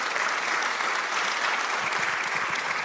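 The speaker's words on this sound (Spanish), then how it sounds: "Un aplauso fuerte." A church congregation claps loudly and continuously, a dense, steady wash of applause with no voices standing out.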